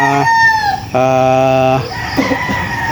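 Roosters crow loudly and close in a yard full of chickens, chicks and young stags, with a long sustained cock-a-doodle-doo in the middle flanked by other crows and clucking.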